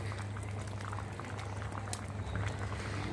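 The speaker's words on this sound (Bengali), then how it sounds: "দেখুন বন্ধুরা কিছুক্ষণ রান্না করে নিয়েছি ডালটা কিন্তু প্রায় সিদ্ধ হয়ে এসেছে" Red lentil masoor dal simmers in a pot with a constant, close bubbling and popping over a low steady hum, with no talking.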